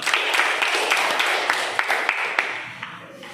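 A class of students applauds after a classmate's presentation during a school lesson: a dense, steady patter of many hands close by that thins out and fades toward the end.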